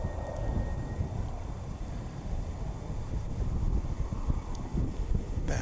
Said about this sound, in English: That's an Airbus A321.